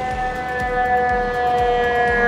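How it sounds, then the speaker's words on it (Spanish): A fire engine siren sounds on a Brooklyn street, holding a steady loud wail over a pulsing, rhythmic low horn or engine throb, close and continuous. "ambulancias y sirenas hay por todos los lados"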